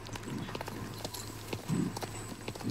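Horse hooves clip-clop steadily in the video game Star Stable, a quick irregular run of close, moderately loud hoofbeats with a soft background music drone underneath.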